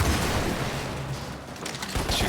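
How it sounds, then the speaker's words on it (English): Video game explosions mixed with dense rattling blasts form a continuous loud, rumbling roar that dips briefly and then swells again, with no talking. "Those explosions looked so damn cool."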